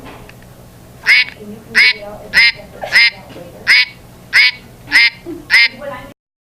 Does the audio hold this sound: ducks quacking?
yes